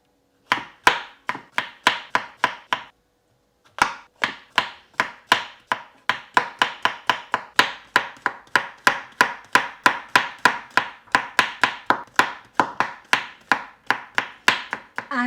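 A knife thinly slicing mushrooms on a cutting board, a long run of quick, evenly spaced crisp cuts and taps close up, pausing once for about a second before resuming at a steady rhythm.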